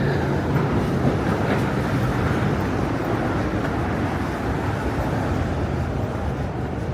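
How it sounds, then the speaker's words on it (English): A train rumbles past nearby in New York City, a steady broadband roar of wheels and cars on the rails without pause. "Here comes the trains."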